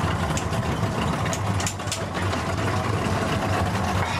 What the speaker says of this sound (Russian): Такие у нас два движка Yamaha, 200 сильные каждая штучка.